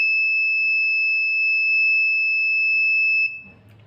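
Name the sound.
buzzer of 8051 microcontroller door lock sounding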